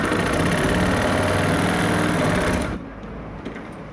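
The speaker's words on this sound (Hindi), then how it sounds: "इस निशान तक आपको सिलाई लगा देनी है।" An electric sewing machine stitches a kurti in a fast, steady whirring run for nearly three seconds, then cuts off, leaving only faint room noise.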